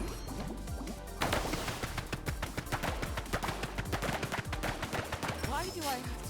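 Exploding penguin attack in the video game Foamstars, a rapid barrage of crackling bursts and smashing impacts, loud and dense throughout with a brief quieter lead-in.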